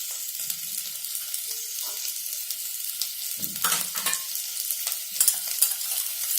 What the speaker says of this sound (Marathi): हे 4 बटाटे आहेत, मिक्स करून घेऊया।